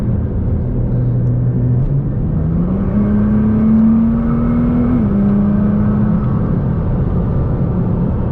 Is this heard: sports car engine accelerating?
yes